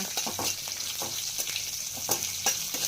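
Cashew nuts fry in a pan with a constant close sizzle, broken by a few quick scraping stirs, and no talking.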